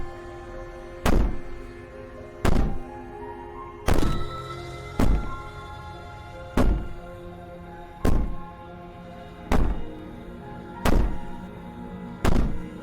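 Nine heavy, booming bangs from the Slay the Princess video game, evenly spaced about every one and a half seconds, each loud thud ringing briefly over a low sustained droning backdrop with no talking.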